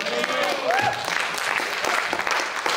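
A church congregation applauds together, a steady wash of clapping with voices mixed through it, fairly loud and continuous across the moment.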